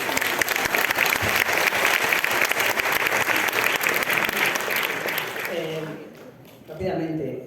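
An audience at a literary talk with an author at the Celsius 2022 festival breaks into loud, sustained applause that fills the room, then thins out near the end as a voice comes in.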